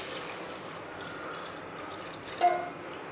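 Tamarind water poured into a pot of fish curry, a soft steady trickle with a brief splashy swell near the end, close and fairly quiet.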